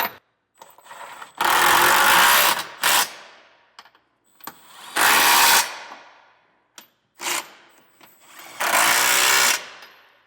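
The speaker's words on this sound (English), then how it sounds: "Now we're tightening these down with a 22mm socket." Trailer hitch bolts on a 2025 Acura MDX being run down with a 22mm socket on a power tool during a Curt Class III hitch install: three loud, sustained mechanical whirring bursts separated by short pauses and quieter clicks.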